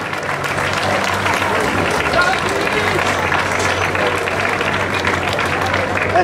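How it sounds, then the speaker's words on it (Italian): A crowd at the Rally Valdinievole 2018 claps for rally drivers, a loud, sustained wash of applause with crowd noise and a low hum underneath, steady from start to end. "Un bello applauso, Thomas Paperini e Simone Truini."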